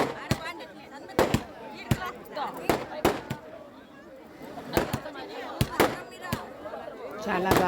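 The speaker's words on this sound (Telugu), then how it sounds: "టపాసులు పేలుస్తున్నారు." Firecrackers burst at a temple chariot festival in Bukkaraya Samudram, Anantapur: a string of sharp, loud cracks at irregular intervals, some in quick pairs, over a steady murmur of crowd chatter.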